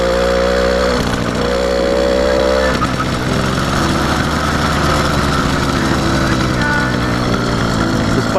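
A small 80cc two-stroke engine on a motorized bicycle runs close by with a buzzing, slightly choked exhaust, rising and falling in pitch as it revs and settles.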